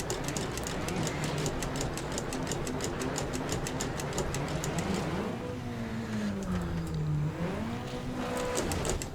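A rally car with a damaged gearbox is driven hard in a racing game, its engine droning steadily with pitch dips and rises as gears are shifted quickly, and a rapid rattling buzz running through the first half.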